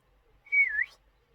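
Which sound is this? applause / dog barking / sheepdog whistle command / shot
sheepdog whistle command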